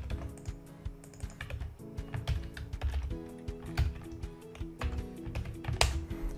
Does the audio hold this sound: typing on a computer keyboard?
yes